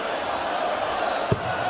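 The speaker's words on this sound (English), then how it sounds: "they're just singing Gary Anderson's name and just getting behind their man" Darts crowd at the 2012 Premier League match between Gary Anderson and Andy Hamilton, chanting Anderson's name in a steady, sustained sing-along drone from a large arena, with one short thump near the end.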